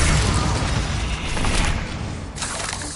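Bombarda blasting spell in Hogwarts Legacy, a loud, dense roaring explosion that rumbles for about two seconds, then breaks off with a sharp dip before a second burst of crackling blast noise.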